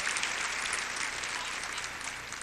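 A church congregation claps for the orchestra during a Sunday evening service. The applause is dense and sustained and fills the whole moment, easing slightly toward the end.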